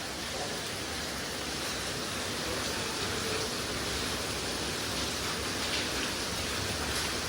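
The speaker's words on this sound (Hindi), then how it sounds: "बारिश बहुत आ रही है" Heavy rain falls in a continuous, even wash of dense patter, steady and fairly distant, with no voices or other sounds over it.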